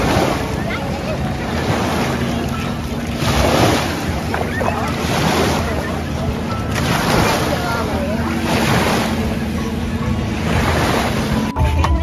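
Ocean waves roll onto the beach at Grand Bend, Canada, as a loud, steady wash of surf with strong wind buffeting the microphone, and the surges rise and fall every few seconds.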